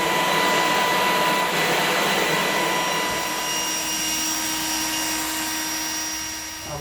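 Kobalt brushless 80V Max cordless leaf blower running steadily, a loud continuous whooshing roar with a high motor whine that holds for the whole stretch and eases slightly toward the end.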